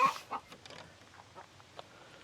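Chickens cluck softly nearby, a few scattered low calls over a quiet background.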